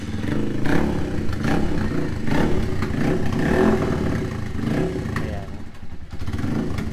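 A Motorstar Cafe 150 motorcycle, five years old, starts and settles into a running idle with a rough, clattering engine note that stays loud and close throughout.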